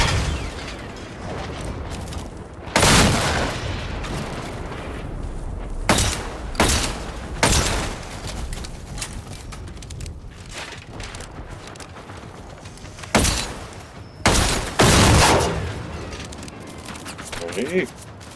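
Enemy gunfire in the video game Generation Zero, irregular loud bursts and single shots scattered over a quieter background with game ambience between them.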